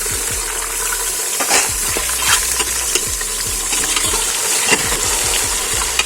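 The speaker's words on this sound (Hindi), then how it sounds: "अब हम जो है ये गोश्त इसमें डाल के जो है ये फ्राई कर लेंगे" Beef sizzles loudly in a hot pan for biryani, a steady crackling fry broken by repeated scraping and stirring sounds.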